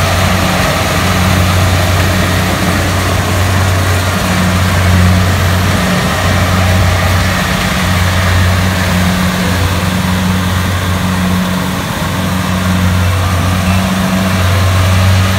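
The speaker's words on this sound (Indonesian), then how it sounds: "menggunakan mesin combine." A combine harvester engine running while harvesting rice, a loud, continuous low drone with a steady mechanical hum and faint pulsing, constant throughout and free of talking.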